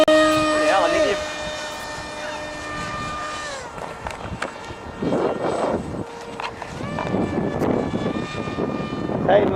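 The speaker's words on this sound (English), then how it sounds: "Let's fly the plane." A radio-controlled model airplane whines overhead with a steady high-pitched motor tone that shifts and fades, joined by outdoor wind rumble and some movement noise.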